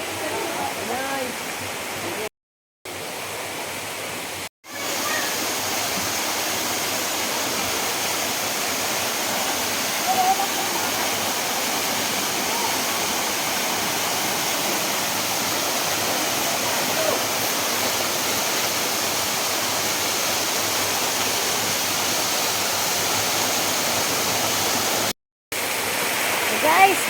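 Kasili Falls waterfall roars as a steady, dense rush of falling water close by, unbroken for the whole stretch apart from a few brief dropouts.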